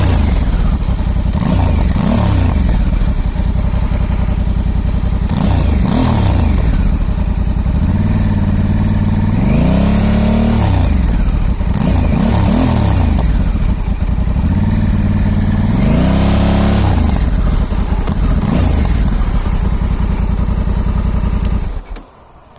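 Honda Africa Twin 1100 Adventure Sports DCT on its stock exhaust, revved in several loud rising and falling blips over a steady close idle, running alone until cut off at the end.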